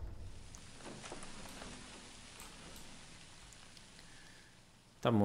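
Steady rain patters in the video game Prison Architect, a soft constant hiss of falling drops, with a sharp louder sound breaking in right at the end.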